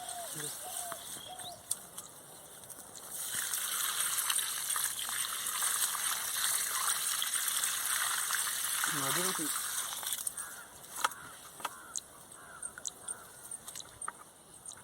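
Water gushes steadily onto newly planted trees for several seconds from nearby, with birds chirping and people talking briefly before and after.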